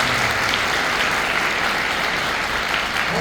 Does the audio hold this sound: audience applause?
yes